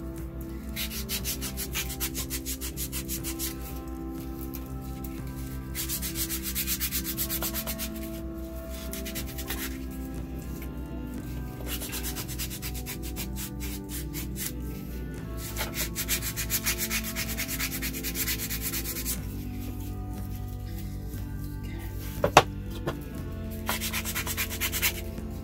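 Sandpaper rubs back and forth over a small wooden table piece by hand, making steady rhythmic scratchy strokes, close and moderately loud, with a few sharp knocks near the end over a faint musical background.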